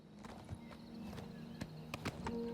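Steady clip-clop of horse hooves trotting at a regular rhythm in the video game Oblivion Remastered, moderately close, with a low continuous hum underneath.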